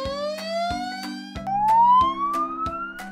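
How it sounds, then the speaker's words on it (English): Police car siren with a rising, sweeping electronic wail over steady lower tones and regular sharp pulses, loud and close, heard alone with no talking. "警车 Police car"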